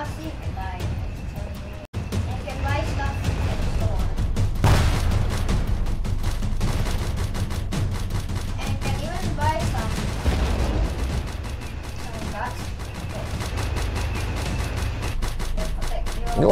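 Rapid automatic gunfire in the Roblox Tank Simulator game, dense bursts of shots running nearly continuously and loudly, with a voice talking over the action.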